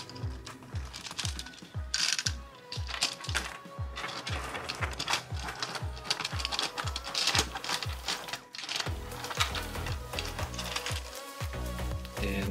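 Plastic Lego escalator links sliding through a motorized escalator mechanism, a rapid run of regular clicking and ratcheting taps close by, steady in rhythm with a brief pause before it resumes.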